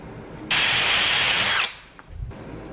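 A power drill whines loudly and steadily for about a second while boring a pilot hole through a wooden barn door, then cuts off, leaving faint handling noises.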